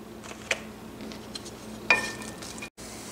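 Onions fry in a small amount of oil in a pan, a quiet, steady sizzling hiss with a couple of light clinks from a utensil against the pan.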